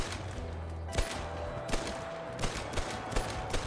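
Rifle shots fired from the hip in the hunting game Call of the Wild ring out as sharp, separate cracks at about one-second intervals, with a steady low ambient hum running beneath them.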